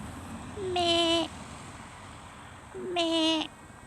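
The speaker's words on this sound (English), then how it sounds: "Hello, sheep." A sheep bleats twice in a field near Tosson, Northumberland: two separate, clear, drawn-out calls about two seconds apart, each rising then holding, heard fairly close over quiet outdoor background.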